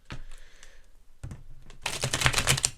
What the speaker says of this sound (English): please ignore the shuffling